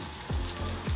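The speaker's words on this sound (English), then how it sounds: "If it doesn't sizzle or bubble, it's not ready." Beer-battered fish fries in hot oil, a short close burst of crackling sizzle with soft bubbling pops, heard alone without any talking.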